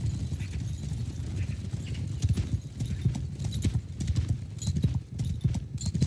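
Horse hooves clip-clop in the Mount & Blade video game with The Old Realms Warhammer mod, a steady fast gallop of dense thudding hoofbeats under faint battle noise, loud and continuous throughout.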